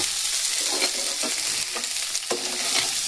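Fried fish and pre-fried potatoes sizzling in a pan while being stirred, a close, steady frying hiss broken by several quick scraping stir strokes, with no voices.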